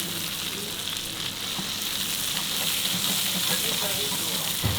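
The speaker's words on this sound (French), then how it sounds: "Ça, je vais bien les rôtir parce que c'est là où c'est meilleur." Food roasting in a hot pan in a kitchen, a steady close sizzle and crackle of frying that keeps going without a break and grows slightly louder toward the end.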